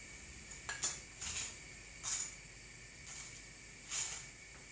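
A knife spreads butter on bread, making faint, brief scraping strokes about four or five times, with quiet pauses between them.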